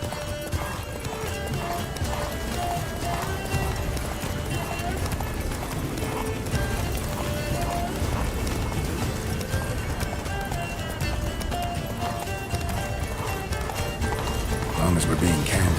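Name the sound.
horse Roach galloping in the video game Witcher 3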